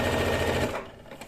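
A sewing machine runs briefly forward and then in reverse, joining two fabric shoulder pieces with a 1 cm seam, its close whirring hum fading out near the end.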